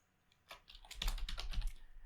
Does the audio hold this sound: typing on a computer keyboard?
yes